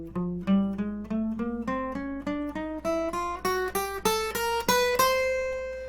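Guitar notes plucked one after another in a steady, slightly quickening rising line, starting soft and growing steadily louder to a bright, strong finish, with no voices.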